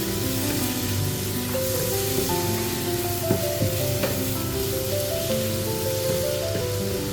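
Ginger garlic paste fries with onions in a pan for a Kerala-style beef fry, giving a steady, close sizzle with occasional stirring scrapes and faint tonal sounds in the background.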